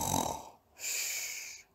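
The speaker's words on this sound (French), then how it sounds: "Tu ronfles !" Read-aloud bedtime story sound effect of a father mouse snoring in bed: a breathy inhale, a short pause, then one long hissing, whistling snore, fairly quiet and alone.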